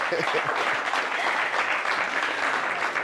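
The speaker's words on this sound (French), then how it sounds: "On peut l'applaudir, s'il vous plaît." A TV talk show studio audience applauds, a steady and full wash of many hands clapping close by, loud and unbroken from start to finish.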